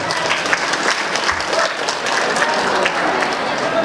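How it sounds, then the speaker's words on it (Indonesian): An audience at the SABA Fair of SMAN 1 Batujajar, a school event, breaks into sustained applause, many hands clapping in a thick, even wash that stays loud and constant throughout. "Tepuk tangan bagi kita semua."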